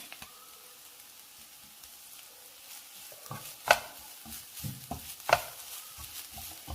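Grated coconut sautéing with spices in a pan over low heat while a Kerala thoran is made, a quiet steady sizzle broken by a few sharp stirring scrapes of a spoon against the pan.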